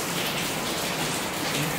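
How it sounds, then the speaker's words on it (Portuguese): Steady rain falls and patters on surfaces, a dense, even hiss with no breaks, close and moderately loud. "tá caindo uma chuva aqui de novo."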